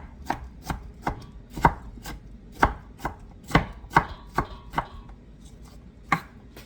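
Pears being chopped for mincemeat on a board, about a dozen crisp knife strikes at an uneven, unhurried pace, close and clear with no talking.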